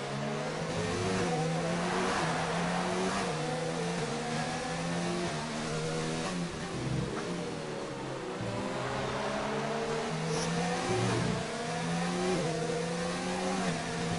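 Race car engines from the F1 2019 video game at the Singapore circuit wail and rev continuously, with layered engine tones climbing and dropping through gear changes as several cars run close together, loud and steady throughout.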